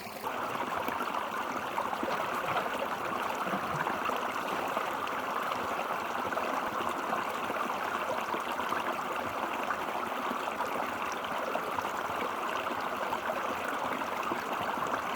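A creek flows and burbles steadily nearby, a continuous rushing water sound with no voices or other sounds breaking through.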